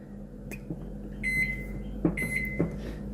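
A microwave oven running while heating coffee creamer, with a steady low hum and a few clicks and short beeps on top, close by with no talking.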